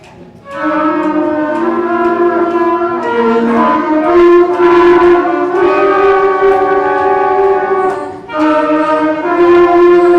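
A middle school band at a winter concert plays the opening theme of a piece, sustained brass and wind chords swelling in a steady phrase, with a brief dip in volume near the end before the chord resumes.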